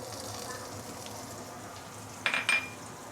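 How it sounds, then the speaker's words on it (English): Ginger and shallot sautéing in oil for fried mee sua, a soft steady sizzle with a couple of sharp utensil clinks against the pan near the end. "We're going to saute this for a minute or 2 before we continue."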